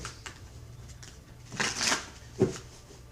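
A few short riffles and slides of tarot cards being shuffled, close and moderately loud, separated by pauses with no talking.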